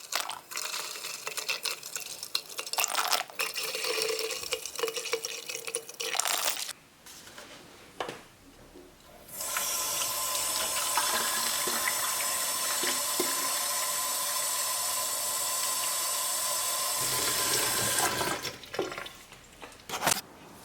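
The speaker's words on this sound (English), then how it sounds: "Pour some white vinegar into an empty bottle and then dilute with 4 or 5 parts water." Water runs from a tap into an empty bottle for diluting white vinegar, with a rushing fill that starts, pauses after handling noises, then flows steadily for several seconds before stopping.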